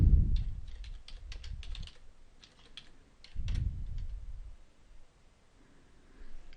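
Login typed on a computer keyboard, light clicking keystrokes in quick bursts and pauses, close and fairly quiet, with a couple of heavier thumps between runs.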